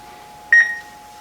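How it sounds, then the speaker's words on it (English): An eLinkSmart indoor PTZ WiFi security camera gives a single short electronic beep during setup, clear and close over a faint steady hum, then fading quickly. "So now that it's beeping again"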